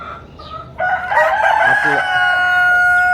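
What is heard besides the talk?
tiger breed chickens on a farm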